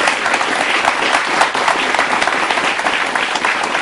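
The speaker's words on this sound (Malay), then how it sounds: "Kita beri tepukan kepada Dr. Saharudin." An audience at a campus panel discussion on improving sport in Malaysia gives a panelist dense, steady applause, sustained and fairly close throughout, with no talking over it.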